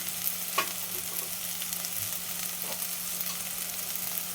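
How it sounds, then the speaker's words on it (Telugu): Cumin and coriander powder with turmeric frying in a pan for jowar idli masala, a steady low sizzle with light stirring scrapes, no talking. "వేసి ఒక్కసారి వేయించాలి"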